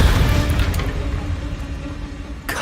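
A Confringo blasting curse explodes in Hogwarts Legacy, a heavy low boom rolling and rumbling before decaying, with a sharper crack near the end.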